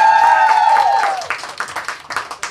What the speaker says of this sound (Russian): Вадим, аплодисменты!